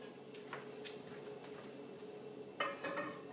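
A heavy saucepan of milk is set onto a stovetop: soft metallic clinks in a quiet kitchen, then a louder clunk and rattle near the end.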